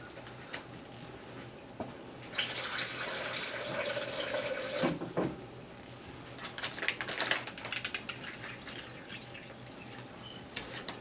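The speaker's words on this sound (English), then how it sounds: "I think I could put a little bit more water in there." Water pours into a bag while a fermented probiotic soda is being prepared, a broadband splashing rush that starts a couple of seconds in, runs a few seconds, then gives way to scattered drips and small handling clatters.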